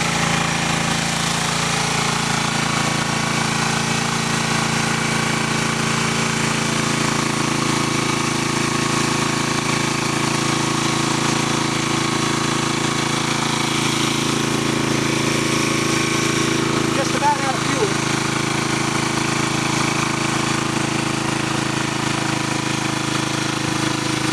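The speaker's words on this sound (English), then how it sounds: "Starting to hear the engine cut back just a tiny bit" Engine running on wood gas from a gasifier drones at a steady, loud, unbroken pitch, close by, with a rough mechanical rattle and no pauses.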